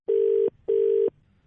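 Two identical steady telephone beeps after a call is hung up, each about half a second long with a short gap, loud and clean with no talk.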